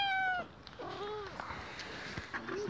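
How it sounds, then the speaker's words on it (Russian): Two house cats meow in several separate, fairly close calls: a rising-and-falling cry first, then softer, shorter meows, with no voices. "вот так, это две кошки у меня."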